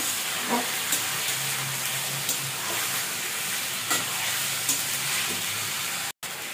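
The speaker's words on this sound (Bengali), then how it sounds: "সবগুলো একসাথে ভেজে নেবো। বেশি ভাজবো না, অল্প ভাজবো" Chicken pieces with spices briefly frying in a pot for biryani, a steady close sizzle and hiss with occasional stirring scrapes, no talk.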